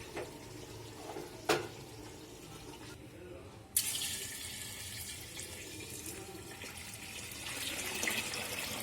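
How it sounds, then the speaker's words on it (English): Boiled water is poured into a pot of cooked chicken for biryani: a quiet kitchen background, then from midway a steady, hissing splash of liquid running continuously. "Pour the boiled water into the cooked chicken."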